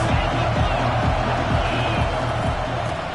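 A college football stadium crowd roars in a sustained, dense wall of noise while the offense lines up, loud and continuous with a commentator talking over it.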